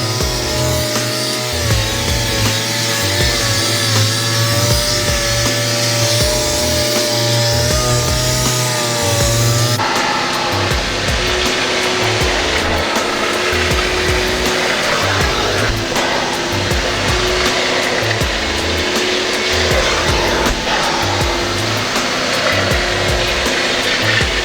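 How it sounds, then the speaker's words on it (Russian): Pneumatic cleaning machine scrubbing a car's interior floor during a dry-clean, a loud buzzing whir with rhythmic scrubbing pulses that shifts to a rougher, broader rasp partway through, continuous and without talk. "пневматической машинкой удобнее где-то подлезть"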